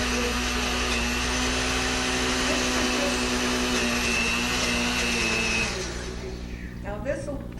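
A blender purees chopped onion with sour cream, a loud steady motor whine holding constant for several seconds before winding down and stopping, leaving faint clatter and quieter room sound.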